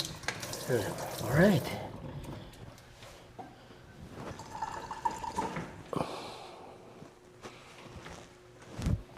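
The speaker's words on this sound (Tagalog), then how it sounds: "Malinis, malakas ang tubig." Water runs strongly from a tap in a homestay hotel in Puerto Princesa City, with splashing and dripping, someone speaking briefly over it, with clatter and shifting noises through the running stream.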